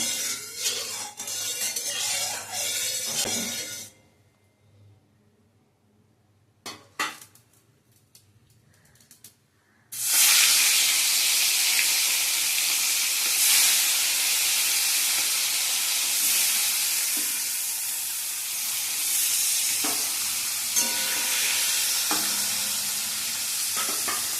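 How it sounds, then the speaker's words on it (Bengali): Koi fish rubbed with salt and turmeric fry in hot oil in a wok. A sizzle stops briefly and returns as a loud, dense, steady hiss when the fish goes in, with occasional spatters and no voices. "তো মাছগুলোকে আমি একে একে উল্টে পাল্টে ভেজে নেব।"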